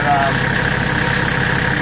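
A Mercedes-Benz 300TD diesel engine idles close by with a steady, rhythmic knock and puffing exhaust, while a voice talks over it.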